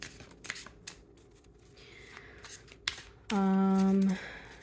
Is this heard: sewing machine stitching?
no